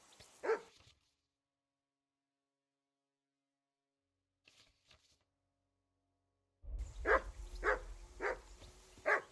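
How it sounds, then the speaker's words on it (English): A dog in the medieval video game Kingdom Come Deliverance II barks once, then after a silent stretch lets out a close, rhythmic run of four or five sharp barks over a low background hum. "I assume you can hear that damn dog of yours barking."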